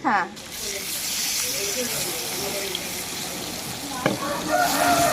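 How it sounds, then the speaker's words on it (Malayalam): Marinated quail frying in oil make a continuous, fairly loud bubbling sizzle. A short burst of voice comes at the very start, and a brief clatter sounds near the end. "അപ്പം നമ്മുടെ കാടക്കുട്ടന്മാരെ എണ്ണയിൽ ഇട്ടിരിക്കുകയാണ്"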